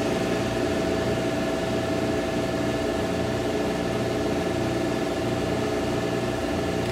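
An HTP Munchkin boiler's induction exhaust blower runs with a steady, close mechanical hum and motor whine, holding an even level throughout with no voices.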